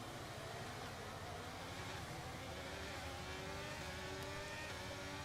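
Formula 1 race cars launching together off the grid in the F1 23 video game at Bahrain, a loud continuous roar of many engines with rising revs through the whole stretch.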